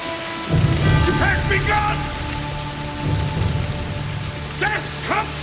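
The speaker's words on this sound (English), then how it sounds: "This rain is meant to wash us off the face of this world." Heavy rain pours steadily with rumbling thunder in a film scene about Noah's flood, while voices speak over the storm.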